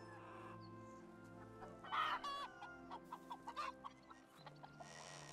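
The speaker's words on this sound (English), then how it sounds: "But now we just have a couple chickens." Chickens in the farming game Medieval Dynasty cluck in a string of short, close calls over a steady low hum of game ambience, with no talking.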